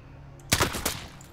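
Gunfire in Call of Duty: Modern Warfare, a quick burst of two or three sharp, loud shots in close succession over a quiet background.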